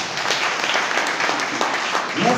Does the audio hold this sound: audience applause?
yes